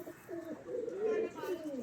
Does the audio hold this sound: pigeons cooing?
yes